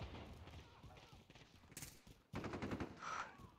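Desert Eagle pistol shots in a first-person shooter video game, several sharp cracks in quick succession with a louder burst near the end, mixed with game sounds and faint background voices.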